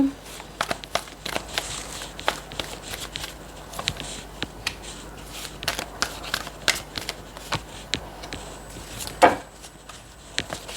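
Tarot cards are shuffled and drawn by hand in a quiet room, giving a string of soft, quick papery flicks and taps spread irregularly across the stretch, with low background hum.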